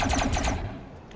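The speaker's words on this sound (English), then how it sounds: "I think these ones fired a plasma weapon now." Rapid plasma weapon fire in the game Robocraft, a quick burst of about six pulsing shots followed by a fading echoing tail.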